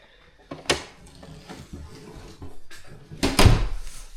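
A door is opened with a click of the latch and a couple of creaking, thumping movements, close and moderately loud, ending in a firmer knock.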